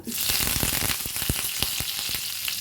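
Mustard seeds and curry leaves sizzle and crackle in hot oil, making a loud continuous hiss broken by sharp popping spatters close up.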